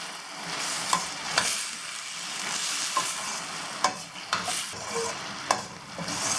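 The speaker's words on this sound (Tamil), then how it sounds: "இப்போ நம்ம எல்லாத்தையும் போட்டு ஒன்றா மிக்ஸ் பண்ணிடலாம்." Eggplant (brinjal) stir-fry with salt and chilli powder sizzling steadily in a pan while a spoon scrapes and stirs it in repeated sharp strokes, close up with no talk.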